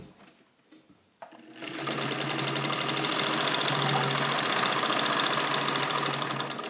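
Singer 66-18 Centennial sewing machine with crinkle finish, driven by a Singer BT motor, whirs up from quiet clicks into a loud, steady mechanical hum with a fast even needle chatter that holds to the end.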